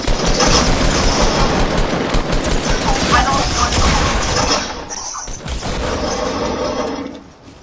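Rapid bursts of automatic gunfire rattle loudly and almost continuously in a Fortnite match, with a brief lull before more shots, under excited player talk.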